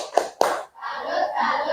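A school class performs the 'tepuk salut' clapping chant. Two sharp group claps ring out, followed by children chanting together in unison.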